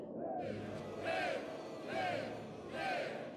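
Arena crowd in the movie Gladiator roars and cheers in three swelling waves, loud and dense, with a chanting quality rising and falling about once a second.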